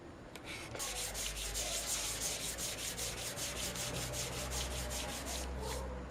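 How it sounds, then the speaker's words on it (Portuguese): Steady rhythmic hand sanding of wood pieces with a sandpaper block, quick rasping back-and-forth strokes repeating evenly and close up, with no voices. "Eu estou fazendo o lixamento agora das peças, lixando o fundo."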